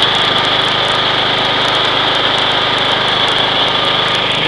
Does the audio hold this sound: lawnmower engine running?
yes